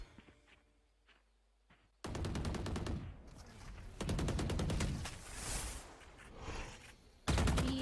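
Rapid bursts of automatic gunfire from a Valorant esports match ring out loud and close, with sharp repeated shots in several clusters and brief pauses between them.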